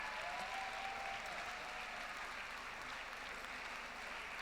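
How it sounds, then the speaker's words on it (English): Steady applause from a crowd at a keynote address, dense and continuous clapping throughout with no voices standing out. "Please give a round of applause"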